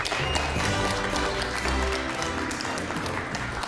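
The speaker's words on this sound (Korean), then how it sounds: "이럴 때는 박수도 쳐 괜찮아요" An audience claps during a talk by a chef and opera singer. The applause is close and steady for a few seconds, with a dense patter over a low rumble.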